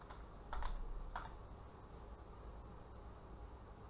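A few quick keystrokes tap on a computer keyboard in a short burst near the start, then only quiet room hiss, faint and close, without speech.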